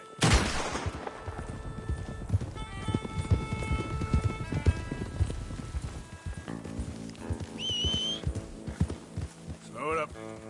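Galloping horse hooves pound rapidly under a busy game soundtrack in Red Dead Redemption 2, with a horse whinny near the end and a voice now and then.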